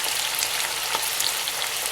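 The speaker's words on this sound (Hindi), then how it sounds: "हाई फ्लेम पर आपने इसको सिर्फ 1 मिनट के लिए फ्राई करना है।" Bell peppers sizzle in a pan over a high flame for a sweet and sour chicken dish, a steady, bright, even frying hiss with no voices.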